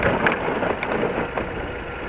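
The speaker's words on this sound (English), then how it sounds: "why am I riding down the middle on all this mud and gravel and shite?" An old motorcycle rolls over mud and gravel, giving a loud, continuous crunching rumble of tyres on loose stones, with brief rattles and knocks standing out.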